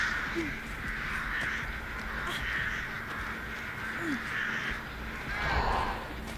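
Crows caw repeatedly in the Evil Dead video game, harsh calls rising over a steady bed of game ambience, with players talking underneath at moderate level throughout.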